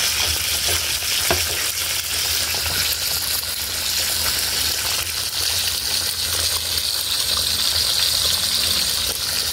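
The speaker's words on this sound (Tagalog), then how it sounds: "Kasi kumukulo na po ba" Loud, continuous bubbling and sizzling from a pot cooking on the stove, with occasional clinks of a utensil.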